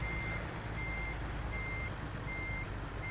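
A truck in American Truck Simulator backs up with its reversing alarm beeping in four evenly spaced pulses over a steady low engine rumble.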